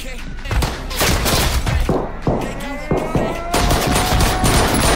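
Gunfire rings out in the animated series Invincible, a dense volley of loud overlapping shots with ringing tails, heard amid other soundtrack noise and without dialogue.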